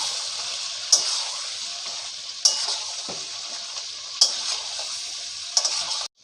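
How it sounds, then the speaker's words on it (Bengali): Marinated chicken cooks in a pan over medium flame, a soft low sizzle broken by four sharp scraping stirs at regular intervals, close and without talk. "ম্যারিনেট করা চিকেন চিকেনটা দিয়ে দিলাম সুন্দরভাবে কষিয়ে নেব"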